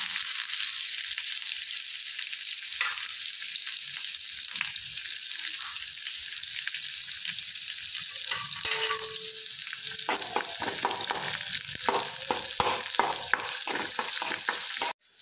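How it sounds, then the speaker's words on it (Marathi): Mustard seeds, cumin and onion fry in hot oil for a Maharashtrian dry matki dish, producing a loud, continuous close sizzle with crackling pops and occasional stirring scrapes. "तेल तापलंय तर मोहरी टाकते तेलामध्ये, नंतर जिरं टाकायचं आणि कांदा"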